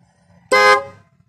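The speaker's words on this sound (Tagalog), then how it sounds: "bali gumagana siya mga boss, yung horn niya" A single short car horn honk, loud and close, about a quarter second long, with quiet around it.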